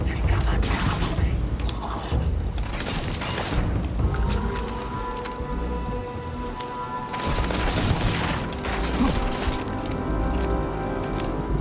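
Video game gunfire in Starfield, dense rapid bursts of automatic shots in loud clusters separated by brief lulls, with mechanical clanks and tonal game effects in between.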